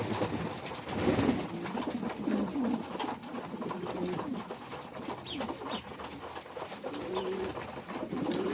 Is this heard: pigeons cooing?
yes